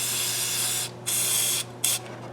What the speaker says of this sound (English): Everything's sprayed.